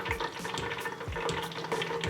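Hot oil crackles and sizzles while fried chicken, aubergine and potato pieces are tapped and drained in a pan, with several soft metallic knocks breaking through the steady frying hiss.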